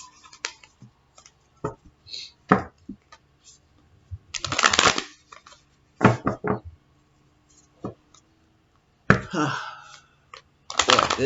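A Moonology oracle card deck is shuffled in bursts of riffling and flicking with taps and knocks between them, close and intermittent, the pauses mostly quiet.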